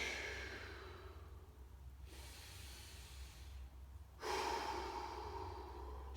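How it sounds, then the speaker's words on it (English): Slow, deep breathing close to the microphone while relaxing during a hip exercise: a long airy exhale, a pause, then a strong inhale, soft and alone. "So I'm just gonna take some breaths."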